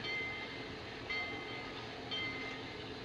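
A train waits at a station with a faint, steady low rumble and hiss of idling rail cars, while a thin, high tone briefly sounds a few times in the distance.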